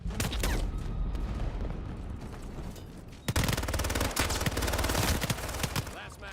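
Rapid video game gunfire bursts loud and dense for the whole stretch, with a near-continuous automatic spray in the second half, mixed with faint game noise and occasional voices.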